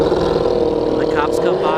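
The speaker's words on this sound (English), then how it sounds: "The crotch rocket flying by at 100 miles an hour." A sport motorcycle roars past at about 100 mph at a drag strip, a loud engine drone with a rising whine, heard under talk.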